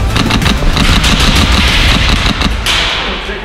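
Airsoft guns fire during an arena skirmish at a shooting center, a dense run of rapid, sharp shots crackling almost continuously, loud and close, with no talk.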